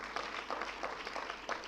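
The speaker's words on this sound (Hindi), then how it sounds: "जोरदार तालियों से आपका स्वागत है।" Audience at a seminar marking Lord Rishabhdev's birth anniversary applauding a welcomed guest, faint steady clapping with a slightly irregular patter, heard from a distance.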